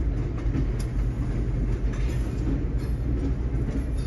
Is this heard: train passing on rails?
yes